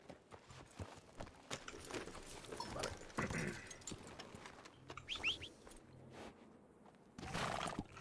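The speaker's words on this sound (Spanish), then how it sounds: "Mira, déjale, llamo a mi caballo." Horse hoofbeats in the Red Dead Redemption II (RedM) video game world, a rhythmic clip-clop of a called horse approaching, moderately loud amid scattered ambient game sounds and brief bird-like chirps.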